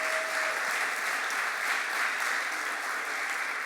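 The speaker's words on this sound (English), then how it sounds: "a huge round of applause for all of our honorees" An audience applauds honorees at the AARP Minnesota 2022 50 Over 50 celebration event, a dense, steady wash of clapping that fills the room from start to finish.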